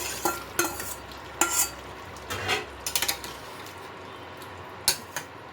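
Fried prawns, cooked earlier with salt and turmeric, are added to a simmering pan of echor curry and stirred, giving a soft bubbling hiss with a few sharp scrapes and clinks of a spoon, close by, no speech.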